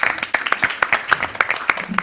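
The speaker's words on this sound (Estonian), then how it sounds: "Aplaus!" Applause from a live audience at an evening event, a quick run of sharp claps for about two seconds with a voice briefly over it.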